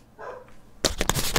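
Dogs bark close and loud after a moment of near quiet, several sharp barks following one another in rapid succession.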